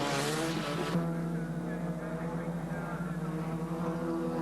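Ford Sierra race cars lapping slower Suzukis in a 1988 production car race, engines droning steadily with a brief louder rush at the start, under continuous commentary.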